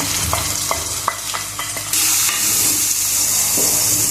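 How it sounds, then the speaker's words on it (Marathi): Spoon taps and scrapes over fried green chilies in a pan, then chopped onion drops in and the oil bursts into a loud, sustained hiss that carries on to the end, with no talking. "मिरची फ्राय झालेली आहे आता कांदा घालून घेऊया कांदा चांगला लाल होऊ द्यायचा"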